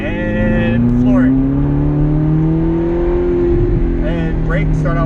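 A Ferrari California at full throttle on a track, heard from the driver's seat: a loud, steady engine note climbs smoothly in pitch over several seconds, with a voice speaking briefly over it.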